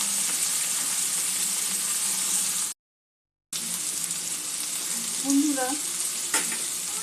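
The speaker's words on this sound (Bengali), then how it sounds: "কাঁকরোলটা একটু ভেজে নেবো আমি ভালো করে" Spiny gourd (kantola) fries in a pan with a constant loud sizzle, broken by a brief silent gap, followed by a few utensil taps and a short spoken word.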